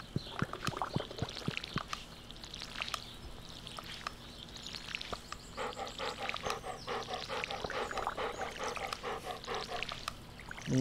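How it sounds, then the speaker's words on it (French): Dog panting in the Stardew Valley video game, a steady run of quick rhythmic breaths over water-like pouring and trickling sounds, with occasional soft clicks and no talk. "Mon dieu, le son du chien."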